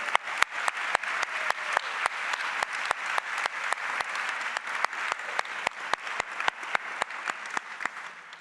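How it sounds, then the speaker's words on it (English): Members at an association luncheon give the staff a round of applause, a sustained, dense crowd clapping that carries on evenly for several seconds without talk. "let's give them a big round of applause"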